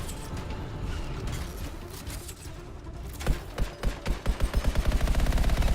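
An autocannon fires in the video game Anthem: a rough mechanical background gives way to a run of sharp, rhythmic bursts that come faster and closer together toward the end.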